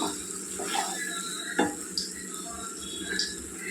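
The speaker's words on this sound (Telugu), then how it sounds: "వాటర్ వేసుకోవాలండి" Water splashes and trickles into a hot pan of okra and prawn tamarind curry, with a few sharp clinks and a soft hiss, close by and fairly quiet.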